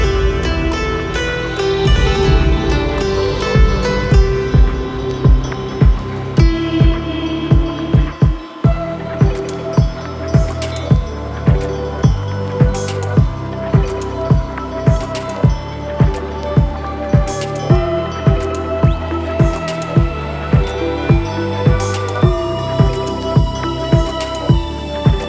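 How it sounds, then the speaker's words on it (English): Quarter-inch three-flute endmill cutting brass on a milling machine for a folding knife part, giving a steady tonal whine with regular rhythmic pulses as the cutter passes, moderately loud and continuous with no talking. "That was the first cut in the brass, and it actually went very smooth."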